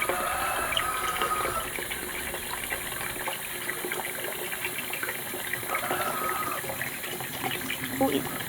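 Water, 1 3/4 cups, gushes steadily into a container of flour and chocolate cookie dough mix for several seconds, a continuous splashing pour with a faint background hum.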